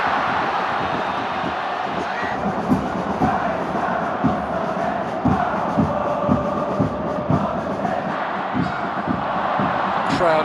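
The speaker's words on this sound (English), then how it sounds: "Crowd enjoying the close to a game for the first time in a while" Dense, steady crowd roar fills a football stadium in Seoul at the close of a K League 1 match against Gwangju, with swelling cheers and scattered rhythmic chanting sustained throughout.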